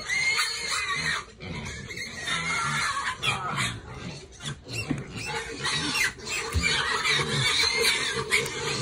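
Restless farm pigs before feeding, giving continuous grunting, squealing and shuffling noises from several animals close by, with no talking.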